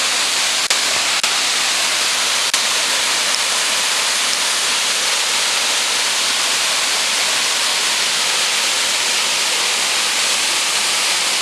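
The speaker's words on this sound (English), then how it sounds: "We just found the first waterfall." A waterfall on the Road to Hana in Maui roars as a loud, steady, unbroken rush of falling water close by, with no voices.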